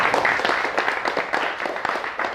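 Audience clapping at a mental training seminar, close and lively with distinct hand claps in an uneven rhythm, a smaller group filling the short stretch.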